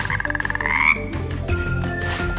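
A frog character in the Wonderbox video game croaks in a quick rhythmic series of rising pulses, followed by a layered electronic game backdrop.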